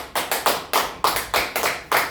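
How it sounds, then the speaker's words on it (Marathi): Hands clap in a steady run of about eight sharp claps, evenly spaced and close, with nothing else heard. "टाळ्या वाजवून घ्या."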